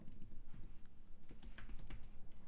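Rapid, irregular keystrokes on a computer keyboard as a git command is typed, the clicks close and steady with no voices.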